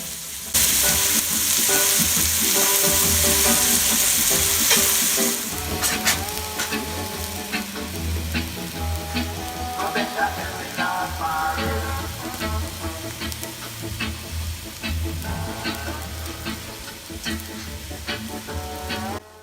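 Fish for a court bouillon cooks in a pan over an outdoor wood fire. A loud, dense sizzle of frying runs throughout, with stirring clatter and scraping scattered across the steady hiss.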